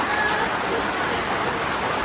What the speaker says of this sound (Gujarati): અત્યારે વાવાઝોડું પતી છે અને ચાલુ થયો છે વરસાદ